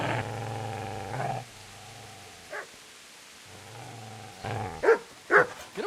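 A dog in the medieval game Kingdom Come growls in long low rumbles, then gives several short sharp barks near the end, close and fairly loud.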